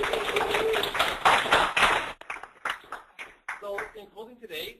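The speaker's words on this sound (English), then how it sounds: "Give them a round of applause." Brief applause from a small audience after a question session, about two seconds of close, scattered clapping that ends quickly, then a person starts talking.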